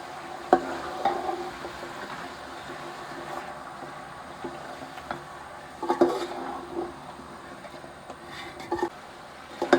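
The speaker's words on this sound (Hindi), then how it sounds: "5 मिनट तक हम अच्छी तरह मसाले को भून लेते हैं।" Ground spices with coriander, turmeric and salt frying in a pot for beef nihari, a steady low sizzle with occasional scrapes and clinks of a spoon stirring against the metal.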